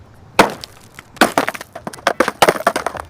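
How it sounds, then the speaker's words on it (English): A phone smashing on the ground in an AI-generated Veo 3 clip lands as a loud cracking impact, followed by a run of sharp splintering clatters and knocks that gradually thin out. "When he smashes the phone, it kind of like shoots up off the ground"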